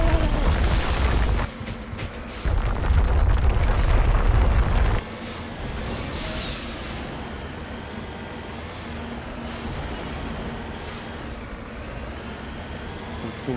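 Starship weapons fire and explosions in Mass Effect build into several deep, loud booming blasts over the first few seconds, then settle into a lower sustained rumble with scattered distant bursts.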